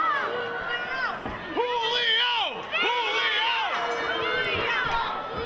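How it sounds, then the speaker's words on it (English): A capacity pro wrestling crowd in Staten Island cheers loudly and continuously, with rising and falling chant-like shouts that swell in waves from many voices close by. "This capacity crowd here in Staten Island getting behind Julio Diniro"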